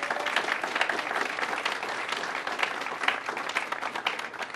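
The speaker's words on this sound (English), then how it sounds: "If we can give them a round of applause." An outdoor audience applauds at a state housing agency headquarters groundbreaking ceremony, dense steady clapping from a modest crowd filling the whole stretch without pause, with no one speaking.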